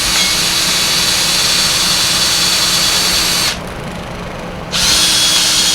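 A power drill runs a fine thread tap through the threaded holes of a brake rotor, cleaning out crud; a loud, steady whine that drops to a quieter hum for about a second before surging back.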